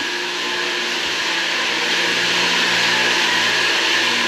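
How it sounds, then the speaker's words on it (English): A water pump powered by a generator runs at night, a steady, loud broadband drone with a constant hum and no variation in pitch or rhythm. "we got the generator running. and the pump is on."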